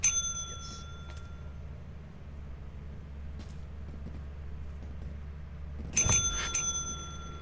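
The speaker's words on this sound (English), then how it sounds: "So, I guess we ring the bell." A bell rings twice in the video game Lethal Company, two bright metallic dings spaced several seconds apart over a low, steady mechanical hum.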